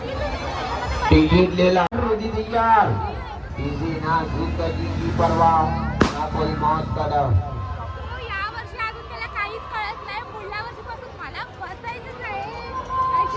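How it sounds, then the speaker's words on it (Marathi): A busy crowd at a village jatra fair, steady babble of many voices with nearby people talking over it, moving and shifting close by. "ही बघा गर्दी आहे फुल गर्दी आहे"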